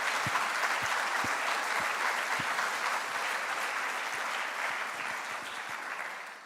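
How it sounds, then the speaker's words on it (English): Steady, full audience applause at a fusion energy roundtable event, a dense even patter of many hands sustained for several seconds with a few sharper claps near the start, fading slightly at the end. "I would like to ask all of you to give a big round of applause for the team who organized this event."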